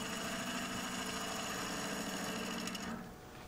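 Wood lathe spinning cedar with a bowl gouge cutting across it, a loud steady motor drone with a buzzing, rhythmic scrape that drops off near the end as the cut eases; no speech.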